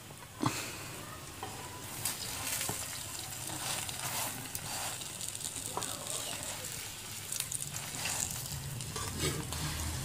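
Saag paratha frying in desi ghee on a pan, a soft, continuous sizzle with occasional crackles and scraping clicks of turning, fairly quiet and close.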